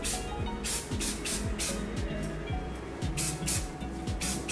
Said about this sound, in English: Now I go in with my volumizing hairspray.